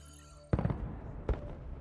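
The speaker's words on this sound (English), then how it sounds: "Ooh, fireworks." Fireworks go off in the game Horizon Forbidden West, two booming bursts about a second apart, each trailing into crackling rumble, fairly loud with no talking.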